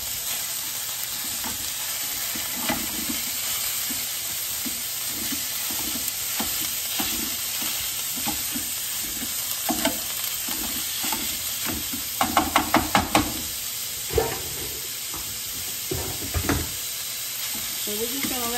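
Taco filling browns in a pan with a steady, close sizzle, broken by scattered scraping and stirring clicks, with a brief flurry of sharper taps near the end.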